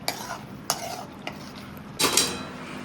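Eggplant bharta mixture with onion and tomato stirred in a pan over low heat, a few distinct spoon scrapes and taps against the metal over a soft sizzle.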